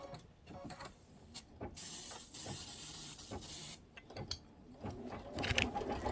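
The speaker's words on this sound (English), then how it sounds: "I'm just going to go ahead and give these a little shot of spray" A short aerosol spray hisses onto fabric in one burst of about two seconds, close by, with light handling clicks and rustles before and after.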